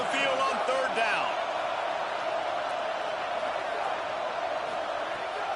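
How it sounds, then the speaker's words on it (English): Loud, sustained roar of a home crowd in an NCAA football video game during a third-down defensive stand, a dense continuous wash of noise with a few sharp thuds early on. "Here comes this home crowd as the defense tries to get off the field on 3rd down."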